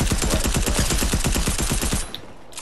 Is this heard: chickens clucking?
no